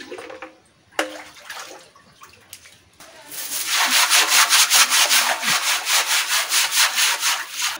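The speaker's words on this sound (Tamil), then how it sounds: "கைஸ் முடிஞ்ச அளவுக்கு கீழே பார்த்தீங்கன்னா சிமெண்ட் தெரிகிற அளவுக்கு ஆல்கே எல்லாம் போக்கி க்ளீன் பண்ணிட்டேன்." Algae is scrubbed off the cement floor of a goldfish pond: a few scattered scrapes first, then steady, rhythmic, loud rubbing strokes that repeat fast and close, with no voices.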